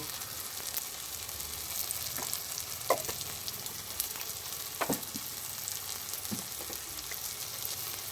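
Kashmiri chilli and cumin powder frying in a pan during a rooftop winter family picnic, a steady close sizzle with scattered stirring scrapes and taps, no talk.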